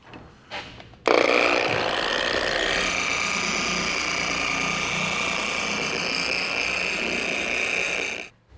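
An orbital polisher spreads Wolfgang Fusion wax over a car's paint, giving a steady, close whirring drone that starts abruptly and runs unbroken for about seven seconds before cutting off. No one speaks.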